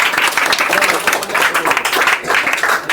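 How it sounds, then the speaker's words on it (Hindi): Enthusiastic clapping from a group of children during a live educational session, a dense steady burst of applause lasting a few seconds, loud and close. "जोरदार ताली के लिए"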